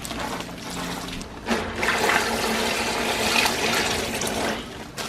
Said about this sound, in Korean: 아까 우리 소금 절인 물 있죠? 그거를 살살살 부어주세요.